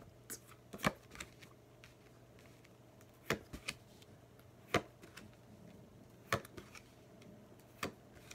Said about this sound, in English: I'll just cut the cards